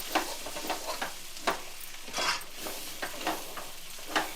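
A utensil stirs egg and prawn fried rice around a hot pan, its scrapes and taps arriving in an uneven rhythm over a soft underlying sizzle, close and with no voices.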